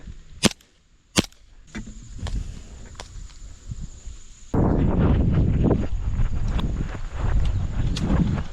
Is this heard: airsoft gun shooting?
yes